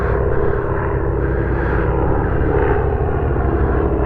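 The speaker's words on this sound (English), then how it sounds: "here's the biplane I was telling you guys about" An old war biplane flies past close by, its propeller engine a steady, loud, throbbing drone that fills the whole stretch without fading, no voices heard.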